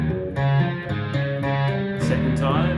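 Guitar riff with plucked notes and hammer-ons over open strings, played steadily and close with a slightly effected tone.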